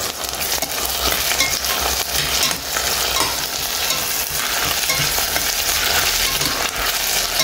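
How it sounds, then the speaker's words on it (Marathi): Onions and green chillies frying in a pan while being stirred, a loud continuous sizzle with scraping spoon strokes close up and no talking. "आता हालयता."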